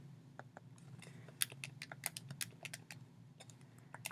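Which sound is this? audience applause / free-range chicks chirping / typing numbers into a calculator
typing numbers into a calculator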